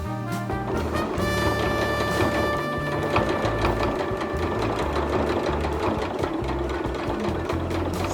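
A home sewing machine bastes a tuck band on a tunic, its needle running in a fast, even whir at close range for several seconds, with no talk.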